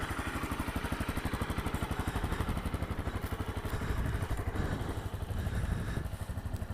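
A Honda CRF250L single-cylinder motorcycle thumps steadily at idle or low revs, close by, with a fast regular pulse and a slight rise in engine note midway, no talking.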